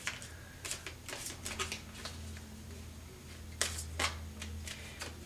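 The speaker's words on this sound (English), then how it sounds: "Every time I shuffle these cards" Tarot cards shuffled by hand: a run of short, crisp riffling and tapping bursts, close and fairly quiet, with a steady low hum underneath and no talking.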